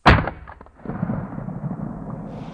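A single sharp pistol shot from a Glock-style handgun cracks loudly up close and then rings out into a long, fading rumble of echo.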